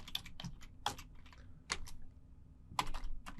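A computer keyboard clatters with irregular, close keystrokes and short pauses as a command is typed, soft taps punctuated by a few sharper hits.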